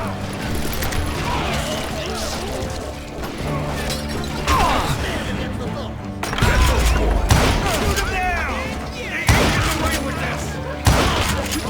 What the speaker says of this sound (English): Bullets were flying every which way as all the old feuds in Kansas caught fire all at once